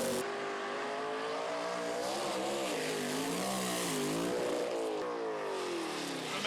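A drag racing team car at a Lucas Oil event runs loud and steady, its engine note rising and wavering throughout with no talk over it.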